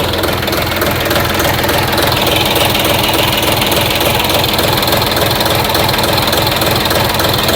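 A YTO244SX tractor engine runs cold at a steady idle, its dense mechanical clatter continuous and close throughout, with no voices.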